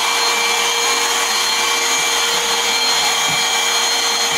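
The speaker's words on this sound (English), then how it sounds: "I'm gonna go another pass with the vacuum" A vacuum cleaner runs steadily while cleaning a messy bedroom being turned into a gaming setup, a loud, continuous close-up roar with a constant whine and a few faint bumps, with no one talking.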